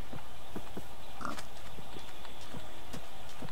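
A pig in a video game gives short grunting oinks, a few close snorts scattered over a steady background bed.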